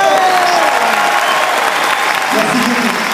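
An audience applauds the Star Wars dubbing team at a fan gathering, a loud, dense burst of clapping with some crowd noise and voices mixed in.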